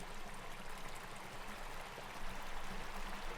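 Water flowing in San Luis Obispo Creek below downtown San Luis Obispo, a steady broad rushing hiss with no breaks, close and continuous.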